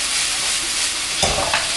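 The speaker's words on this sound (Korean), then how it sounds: "볶아주겠습니다." Vegetables stir-fried with teriyaki sauce in a hot pan give a steady, close sizzle, with a louder burst of stirring and scraping around the middle that fades back into the frying hiss.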